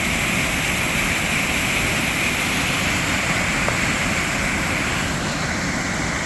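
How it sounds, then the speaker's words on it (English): A waterfall in a Wisconsin state park roars steadily as an unbroken broadband rush, loud and close, with no voices over it. "There's a better view of that other waterfall."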